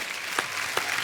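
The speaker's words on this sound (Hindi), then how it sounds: "एक बार जोरदार तालियां एकता, तुषार, मल्लिका और फरहाद के लिए" A studio audience at a comedy talk show claps in a short burst, with a couple of sharper individual claps standing out over a dense, mid-distance patter.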